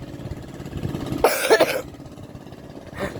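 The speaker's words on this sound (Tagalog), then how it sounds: "Kaya inuubo ko guys eh." A person coughs in a short, harsh burst of two or three rough hacks, close and fairly loud, then a fainter throaty cough follows after a pause, over a low background hum.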